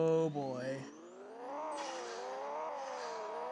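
Engine of an NSX revving in the Pixel Car Racing video game, a synthetic rising and falling engine tone after a brief gear-shift dip, steady and moderately loud.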